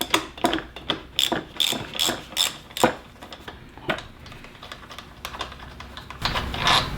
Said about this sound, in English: You can use a 12 millimeter socket.